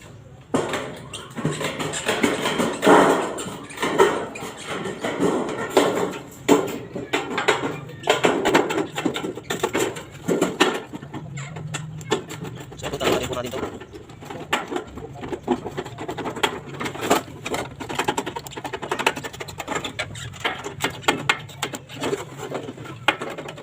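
Metal gutter being cut for joining to roof flashing: a steady, dense rasping and scraping, close and continuous with uneven rhythm, no talk.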